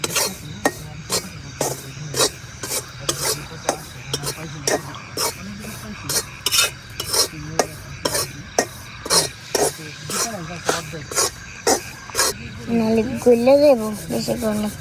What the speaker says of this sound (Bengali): এখন একটা কড়াইয়ে আমি চালের গুঁড়াগুলা ভাইজে নিয়াম।